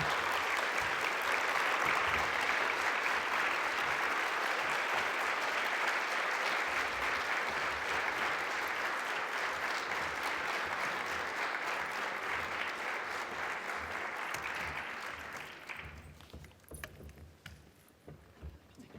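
Sustained, loud applause from a conference audience after an international lecture, a thick even roar of many hands clapping that thins out and fades near the end, leaving scattered claps and room noise.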